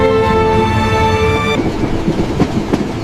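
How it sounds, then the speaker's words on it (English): A train from Paris rolling through the French countryside, opening with a steady horn-like whistle tone over rumble, then giving way to rhythmic clattering of wheels on track, loud and close. "The train from Paris rattled southward through the French countryside."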